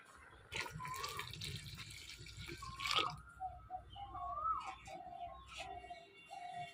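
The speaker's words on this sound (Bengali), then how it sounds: "এবার জল জল দিয়ে দেবো, অল্প জল দেবো" Water splashes and trickles into a pot of softened dal with vegetables in a Bengali home kitchen, with uneven dripping and faint bird cooing in the background.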